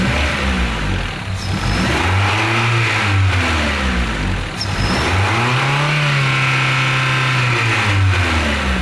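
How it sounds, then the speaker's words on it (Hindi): A Honda Civic engine with a black-smoke exhaust fault revs up and back down twice, loud and close, the pitch rising and falling with each push. "रेस दे रहा हूँ, बढ़ रही है, कम हो रही है"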